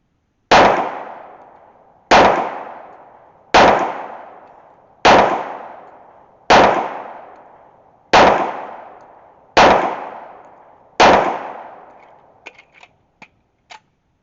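Eight sharp, loud pistol shots from a modified Colt Series 70 at an IDPA practice range, spaced evenly about 1.5 seconds apart with decaying ring, followed by a few faint metallic clicks.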